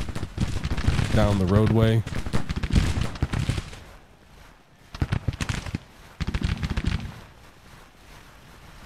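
Troops firing guns in the Civil War game Grand Tactician, a ragged crackle of musketry with bursts of shots rising and falling under someone talking.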